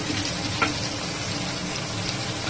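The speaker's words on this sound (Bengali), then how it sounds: "এবারে পেঁয়াজ দিয়ে দিলাম, পেঁয়াজটা একটু ভাজা ভাজা করবো" Sliced onions frying in a pan for a chicken curry give a steady, close sizzling hiss throughout, with one brief clink near the start and no voices.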